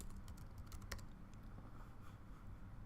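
Quiet, rapid clicking of keys being typed on a computer keyboard, a steady patter of light taps with one sharper keystroke near the middle, and no voices.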